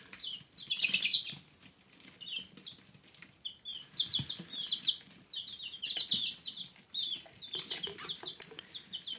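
Chicks cheep in bursts of high chirps while wings flutter and scrabble nearby, the peeping repeating irregularly throughout.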